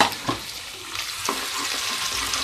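Finely chopped small onion fries with browning garlic in a pan, giving a steady close sizzle with a few scraping stirs and no talking.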